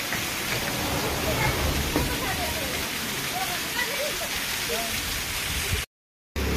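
Steady, dense rushing water fills the whole stretch, a continuous broadband roar from a nearby waterfall, with faint voices in the background before a brief dropout near the end.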